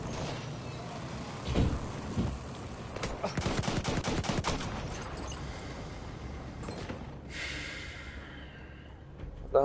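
Gunfire in the World War I shooter Battlefield 1: a quick rapid burst of automatic shots in the middle, with scattered bangs before and a scraping mechanical sound afterward, fairly quiet overall.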